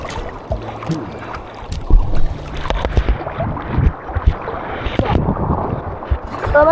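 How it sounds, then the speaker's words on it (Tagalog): Strong waves crash and churn at Patar white beach in Bolinao, Pangasinan, with rough wind buffeting the microphone and irregular surging bursts of water close by. "Lakas ng alon"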